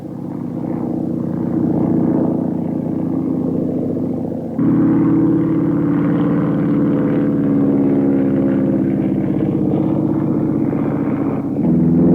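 Vintage airplanes with rotary engines flying at an air show, a loud, steady propeller engine drone with a strong rough tone, shifting in pitch and intensity as they pass close by.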